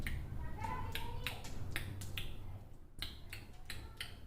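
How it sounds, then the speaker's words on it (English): Wet lip smacking from someone eating, a rapid series of short moist clicks and pops in an irregular rhythm, close and fairly quiet over a low background murmur. "Smacking, the sound takes place while eating."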